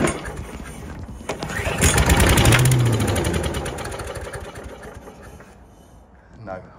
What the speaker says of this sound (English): We'll have another little squirt, another little pull of our cord and see what happens.